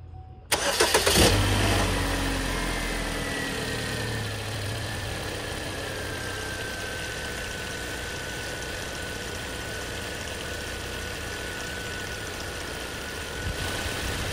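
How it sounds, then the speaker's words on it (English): A car engine cranks and fires during a fuel pressure test, a brief loud catch followed by a steady, even idle that holds for over ten seconds, near and alone without talk. "Now we're going to turn the vehicle on and see what the pressure looks while it's running."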